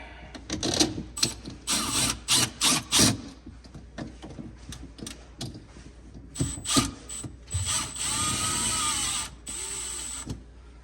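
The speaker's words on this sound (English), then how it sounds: "then we can start tightening these bolts here" Bolts being tightened during a reverse osmosis system installation, heard as bursts of quick ratcheting clicks and rubbing mechanical noise that stop and start, loud and close, with no talking.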